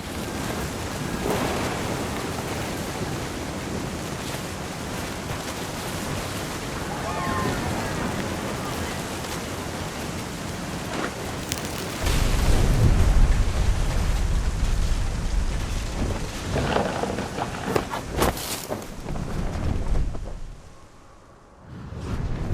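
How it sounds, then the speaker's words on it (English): A storm in the video game What Remains of Edith Finch, with steady rushing rain and wind, then a heavy rolling thunder rumble midway that stays loud before fading out near the end. "The thunder sounded much too close and full of angry power"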